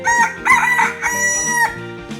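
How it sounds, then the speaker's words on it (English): Cartoon rooster crowing in a 3D animal slide game, a single bright, loud cock-a-doodle-doo with strong harmonics, heard alone. "Chicken."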